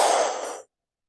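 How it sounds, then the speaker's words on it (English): One powerful lion's breath exhale forced out through the mouth during yoga breathwork, a close, loud, breathy rush of air lasting about half a second before cutting to silence. "Through the mouth, powerfully exhale."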